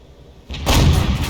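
A tank's main gun firing in a video game, the Type 64, lands as one abrupt loud boom that swells into a broad, sustained roar with no voices over it.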